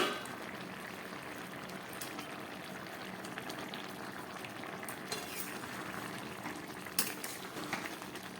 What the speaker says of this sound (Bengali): গ্যাসটাকে একদম কম করে 4-5 মিনিট এগুলোকে সিদ্ধ করে নেব